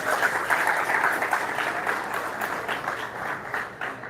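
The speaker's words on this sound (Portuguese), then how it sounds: "Você pode dar uma salva de palmas para Jesus por isso?" A congregation applauds during a Portuguese-language church sermon, clapping loudly at first and then thinning out and fading over about four seconds.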